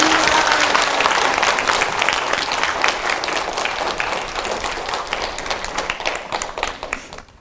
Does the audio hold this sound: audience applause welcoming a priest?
yes